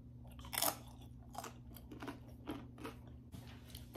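Someone close to the microphone chews crunchy food in a crockpot chicken dish, with a series of crisp, separate bites and crunches spaced unevenly over a quiet background.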